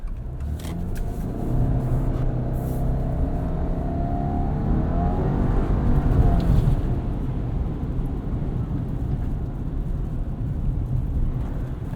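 A 2022 Subaru Outback Wilderness with all-wheel drive and a CVT accelerates through snow, its steady engine drone swelling gradually, heard from inside the cabin with a constant road hum and no talking.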